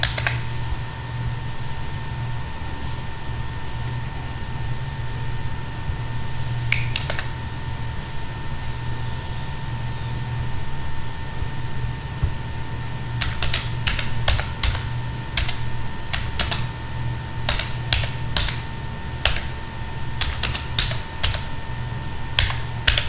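Steady typing on a computer keyboard while writing code, with scattered key clicks early on that turn into quicker bursts and sharp keystrokes in the second half, close and clear over a constant low hum, no talking.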